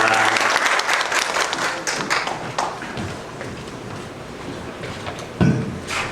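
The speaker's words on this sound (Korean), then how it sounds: "우리가 큰 박수로 맞이하도록 하겠습니다." Applause from an audience welcoming a teacher who heads student life, at a school-violence prevention training session; steady, dense clapping through the first half, then thinning and fading toward the end.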